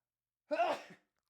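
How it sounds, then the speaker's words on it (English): A single close sneeze, brief and sharp, in otherwise quiet surroundings. "It's just a sneeze break."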